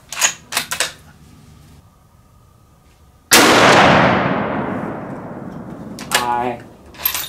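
A single loud .308 Winchester rifle shot fired with a 125gr Speer TNT bullet over AR-Comp powder, a sharp blast with a long decaying echo, between stretches of quiet handling clicks and brief talk.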